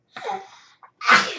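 A single loud sneeze bursts out near the end, preceded by a breathy intake and a short sniff.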